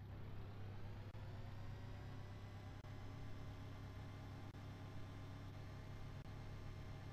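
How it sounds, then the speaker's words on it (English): Electric engines on an airship in Kerbal Space Program give a steady, faint low hum with a whirring drone. It holds evenly throughout with no talk. "Then go ahead and kick in the electric engines too."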